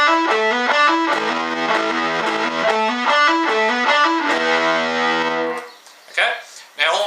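Electric guitar played through a Marshall Class 5 amp and an MXR Distortion Plus pedal chugs out a distorted riff of repeated chords for several seconds, then stops as a person begins speaking.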